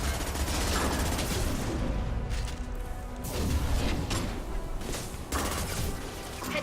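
Sustained Mass Effect 2 combat gunfire: rapid, steady bursts of automatic weapon fire with mechanical clatter and impacts, moderately loud and continuous, with several short pauses between volleys.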